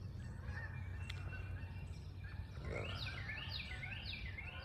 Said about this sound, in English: And my geese are on the move.